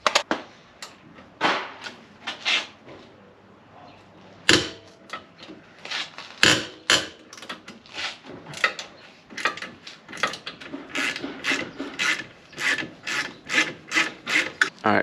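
Bolts being removed from a car during a wheel stud job on an FRS, with rapid rattling, scraping bursts of a wrench or ratchet working in short repeated spurts, loud and close, no talk.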